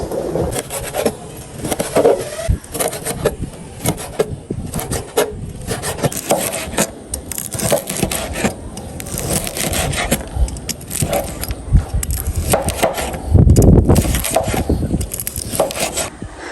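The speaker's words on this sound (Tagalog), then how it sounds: "sa paghihiwa nitong mga karne" A knife cuts meat for dinakdakan on a wooden cutting board in steady, repeated rasping and scraping strokes, close and fairly loud, with a few heavier knocks partway through.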